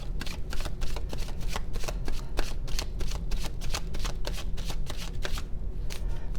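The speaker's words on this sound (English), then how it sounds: "one last shuffle" Rapid riffle of playing cards being shuffled close by, a steady crisp flutter of snapping cards lasting several seconds, with no talking.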